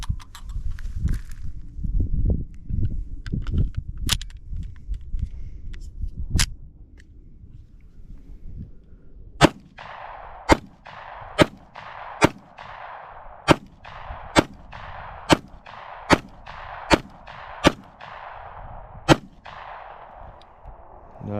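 A Taurus GC9 pistol fires cheap ammunition outdoors, about a dozen sharp, loud shots at a fairly steady pace of one every second or so. Quieter rumbling and a few isolated cracks come first.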